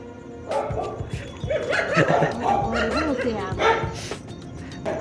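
A dog yips and barks with some whimpering in a home setting, the short calls mixed in with ongoing talk and laughter close by.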